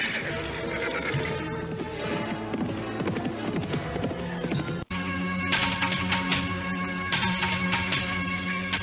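A white horse ridden on a journey to a busy town, with a neighing whinny and galloping hooves layered into a dense, continuous soundscape that cuts out for an instant midway, then resumes loudly.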